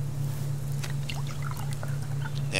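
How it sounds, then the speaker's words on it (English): Water trickling and pouring as canteens are filled in the survival game Subsistence, a steady close splash over a constant low hum. "and fill up the water like so."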